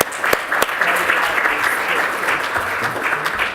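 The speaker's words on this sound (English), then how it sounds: "give yourself a round of applause" Audience applause at a conference workshop, a dense steady clatter of many hands clapping close by, lasting throughout with a couple of sharper individual claps near the start.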